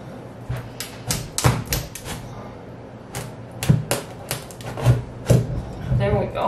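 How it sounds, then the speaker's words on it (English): Pumpkins for canning are cut up with a knife in a series of sharp chops and thuds on a board, irregular and close, with some brief handling noise between strikes. "So first things first, we have to cut these up."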